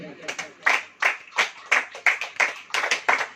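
A church congregation at a sermon claps in unison, a steady rhythmic beat of about ten loud, close claps.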